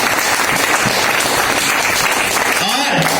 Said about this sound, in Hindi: तालियां कैसी हो जाए?